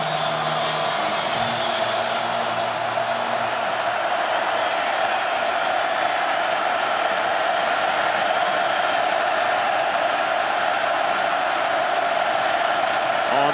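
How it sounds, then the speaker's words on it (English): Steady, dense roar of a big football stadium crowd during a Michigan State at Penn State college game, a loud continuous wash of cheering and noise that holds the whole time without pausing. "this crowd's getting into it. You can hear it right now"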